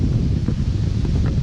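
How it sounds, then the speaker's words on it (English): Strong wind outdoors in a natural setting, a loud, close, continuous low roar of gusts buffeting the microphone with a faint rustle over it. "it's too windy today for that"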